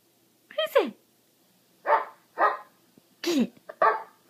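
A few sharp dog barks and yips close by, separated by short pauses, with a person's voice mixed in among them.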